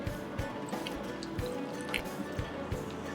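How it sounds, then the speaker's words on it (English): Water being added in parts to wheat flour dough for Goan poee bread, soft wet drips and squishy mixing sounds, quiet and close, with no talking. "Now I'm going to add some more water."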